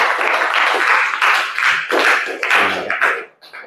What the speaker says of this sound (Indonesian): Tepuk tangan dulu buat Mas Fahmi tadi yang sudah berhasil menjawab.